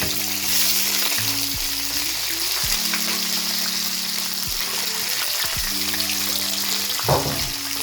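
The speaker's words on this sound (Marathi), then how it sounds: "आनी आतां घालता हांव ऑनियन" Onion hits hot oil already holding mustard seeds, cumin and a little fenugreek, giving a loud, continuous sizzle and crackle with a brief bump of stirring near the end.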